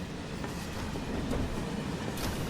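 A train rolls along steadily in the Final Fantasy 7 Remake video game, giving a continuous low rumble and rattle with faint clacking, even and unbroken with no voices.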